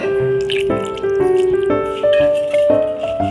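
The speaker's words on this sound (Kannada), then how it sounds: "ನಾನು ಇವಾಗ ಇದಕ್ಕೆ ವಾಟರ್ ಆ್ಯಡ್ ಮಾಡ್ತಾ ಇದ್ದೀನಿ" Water is poured into a vegetarian jackfruit kebab mixture, making a short, close, gurgling trickle whose pitch climbs in steps as it fills, heard alone.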